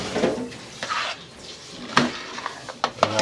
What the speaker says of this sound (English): as we stir and we agitate